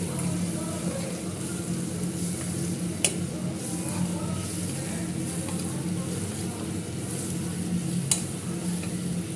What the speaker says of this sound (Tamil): ஒரு கிண்டு கிண்டி வச்சிடணும்